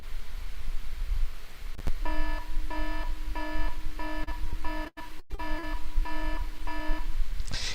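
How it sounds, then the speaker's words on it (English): An alarm sound effect sounds as a repeated electronic beeping pattern in regular bursts of rapid tones, loud and close over a steady background hiss, with a brief dropout partway through. "That's the trigger warning alarm"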